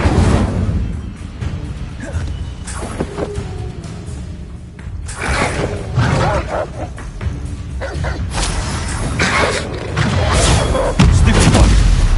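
Incendio fire spell cast repeatedly in the Hogwarts Legacy video game, a run of loud booming bursts and whooshing blasts layered over busy game sound effects throughout.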